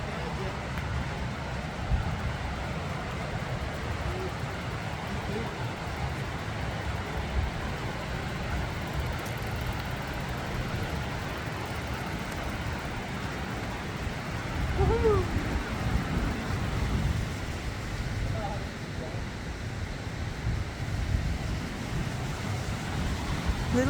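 Snyder Creek, a mountain stream at Glacier, rushes as a constant low roar, with a faint bird call or two over the steady water.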